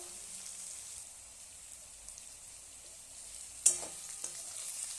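Meat frying in oil with spices gives a faint, steady sizzle close by, broken once by a sharp clink of a utensil near the end.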